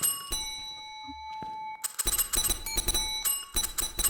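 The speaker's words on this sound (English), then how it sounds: "getting extra luck from that bell" A bell rings in the Phasmophobia ghost-hunting game, a sustained tone that hangs briefly before clattery game noise and movement sounds take over.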